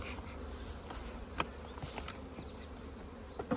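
Honey bees humming at a beehive outdoors, a soft, steady buzz close to the microphone with a couple of faint clicks and no voices.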